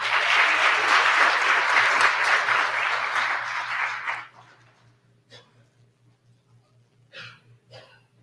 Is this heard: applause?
yes